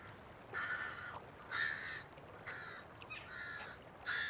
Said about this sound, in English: Of course the crows.